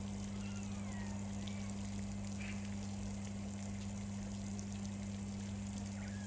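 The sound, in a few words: hum of waterfall pump in otter enclosure pond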